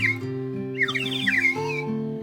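A brief burst of warbling, bird-like trills comes from a water-filled gourd whistle (huijola), heard over a steady backing of music.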